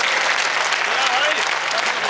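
A crowd at an outdoor Hindi poetry gathering in Garoth applauds, a loud, dense, continuous wash of clapping that fills the whole moment, with a voice carrying over it.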